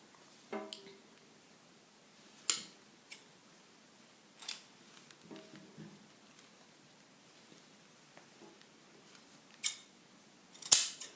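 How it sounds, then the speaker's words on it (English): Scissors trimming fabric for an Igbo blouse, heard as a few separate short snips and crisp cuts at an uneven pace, close and fairly quiet, with soft handling rustles between them and no talking. "So I'll trim it."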